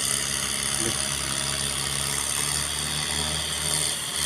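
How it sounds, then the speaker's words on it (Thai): A two-wheel walking tractor runs steadily while plowing a rice field, its engine putting out a continuous mid-pitched drone with faint knocking, heard alone and fairly close. "ต้นรถไถกระไดกำลังไถอยู่"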